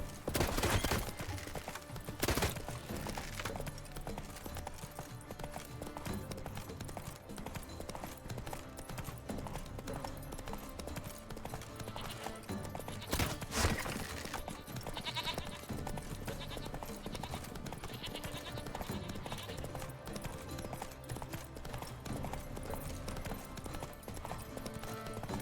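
Horse hooves clip-clop steadily and continuously during mounted riding in The Witcher 3: Wild Hunt Blood and Wine, a loud, busy game mix with occasional sheep-like bleats and sharp impact bursts, no speech over it.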